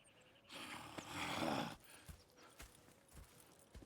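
Horses in Red Dead Redemption 2 snort, with a short burst of breathy noise, then a few quiet hoof clops and shuffles nearby at low volume.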